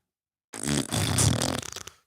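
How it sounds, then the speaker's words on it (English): A short, buzzy fart noise from a song bursts in after a moment of silence and fades out within about a second and a half. "fart noise."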